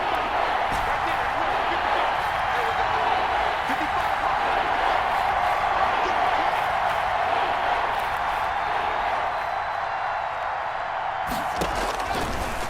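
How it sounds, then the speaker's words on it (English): A big stadium crowd in Madden NFL 21 roars steadily ahead of a key third down, a dense, sustained wash of cheering that holds its level throughout, with a few faint thuds near the end. "the crowd getting into it as we come up on a big 3rd down"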